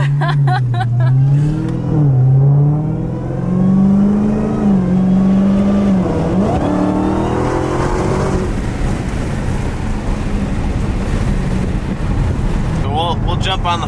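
A 2018 Dodge Demon engine revving as it accelerates hard on a test drive, a loud rising roar that climbs and shifts with wind rush, with people talking over it.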